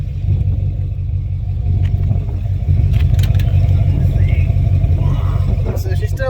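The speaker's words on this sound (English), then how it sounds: "She's rolled a little bit and put her in gear." A GMC C20 pickup truck idles with a steady low rumble, then shifts into gear and rolls slightly, the engine droning loud and close throughout with faint clatter above it.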